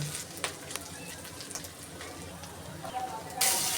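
Ginger-garlic spice paste frying in a pan for a prawn and vegetable curry, a continuous moderate sizzle with scattered clinks of stirring and a brief louder burst near the end.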